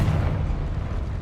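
A Confringo fire spell exploding in the Hogwarts Legacy video game, heard as one deep, rumbling boom that stays heavy for about a second with no voices over it.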